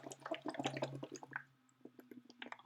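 Someone blows bubbles into a water bottle with fingers partly blocking the opening, giving close, quiet gurgles and drips in uneven bursts that thin out toward the end.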